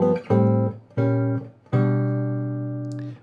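Three struck chords on a keyboard-like instrument, full chords over a walking bass line, each ringing with rich low notes, the last held and slowly fading.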